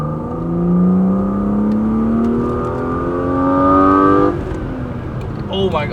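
A BMW E36 engine fitted with a Simota air intake revs hard, its rising harmonic whine climbing steadily for about four seconds before dropping off, then a short whirring tail; close, loud and alone.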